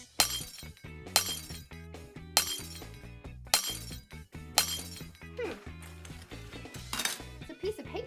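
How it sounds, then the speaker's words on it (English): Several sharp glass-breaking crashes strike roughly once a second, with clinking shards and tinkling debris between hits, loud and close over a musical backing. "at least we can bust this glass."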